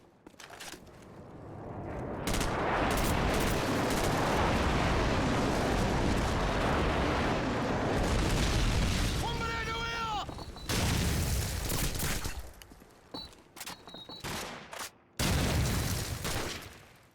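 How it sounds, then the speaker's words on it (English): Airstrike explosions in Call of Duty 4: Modern Warfare on PS3, a loud sustained barrage of booming blasts and gunfire rumbling for several seconds, then breaking into shorter bursts and scattered impacts. "Friendly airstrike on the way."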